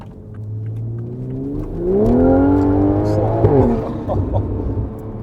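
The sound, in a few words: Toyota Supra B58 stage 2 engine and exhaust revving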